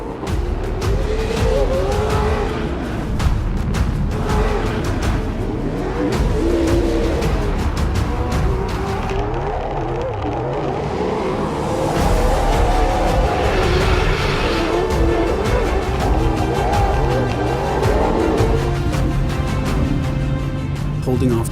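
Toyota off-road race trucks roar past in a continuous, loud engine drone with revving surges and tire noise, sustained throughout with a brief dip midway and commentary voices mixed underneath.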